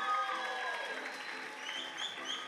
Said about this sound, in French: On peut applaudir Adam, s'il vous plaît, également